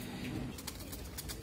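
Pigeons in a rooftop loft cooing softly, a low murmuring coo with a few faint wing flutters, fairly quiet and close.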